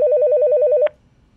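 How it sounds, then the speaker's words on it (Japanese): A dedicated telephone on a fire alarm reporting device rings with a rapid warbling electronic trill for under a second, clear and alone, then cuts off abruptly into near silence. "消防機関から折り返しがあると、火災通報装置の専用電話機が鳴ります"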